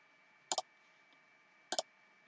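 Computer mouse clicked twice, each a quick double click, crisp and close against a quiet room with a faint steady electronic whine.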